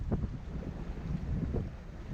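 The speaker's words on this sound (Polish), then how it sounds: "i znowu mamy wiaterek" Low, rumbling wind buffets the microphone in steady gusts on the Baltic Sea, with a faint wash of water in the background.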